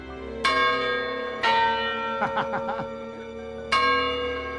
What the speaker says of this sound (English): Let's have a little look at some of the workings of the bell tower in St Giles.